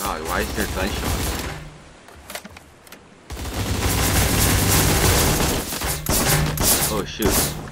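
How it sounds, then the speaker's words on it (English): Gunfire in the Surviv.io online battle game comes as dense rapid bursts, loud and busy throughout, with a short lull in the middle. A player talks over it. "Oh my god, why is there gunshots?"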